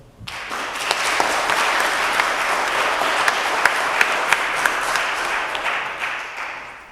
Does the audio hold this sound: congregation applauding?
yes